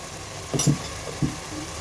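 Ground cumin and garam masala being stirred into beef tehari frying in a pan, with a soft steady sizzle and a few brief scraping stirs, close and alone without talk.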